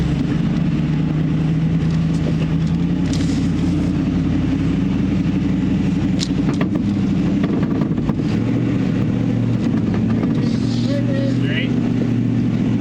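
An overland vehicle's engine rumbles steadily at low speed during a three-point turn, a continuous close drone with faint scattered knocks and rattles on top.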